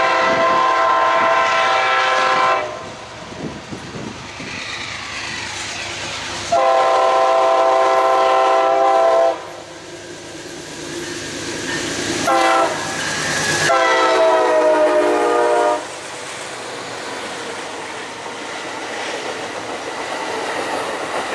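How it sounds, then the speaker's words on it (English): A northbound Auto Train led by Siemens locomotives at a Florida station rumbles past and sounds several long, loud horn blasts, with wheel and carriage noise filling the gaps between them. "Here's PO52, the northbound auto train, with a Siemens AOC 42 in the third position."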